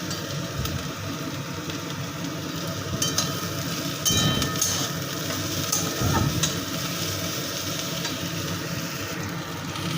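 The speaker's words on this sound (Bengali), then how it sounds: "এবার এই মশলাগুলো একটু ভাজা ভাজা হবে" Whole garam masala spices sizzle and crackle in a pan over a low gas flame, a steady close frying hiss with occasional sharper pops.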